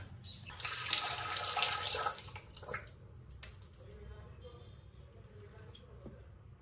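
Water poured through a strainer over a bowl splashes and streams steadily for a couple of seconds, then fades to a quieter trickle with faint background noise.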